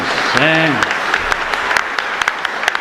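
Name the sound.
congregation applauding at mass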